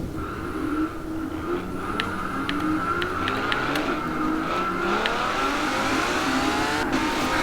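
A car engine in the video game Forza Horizon 4 drones steadily on a highway with rising revs, a continuous mechanical roar with a few faint clicks on top and no talking.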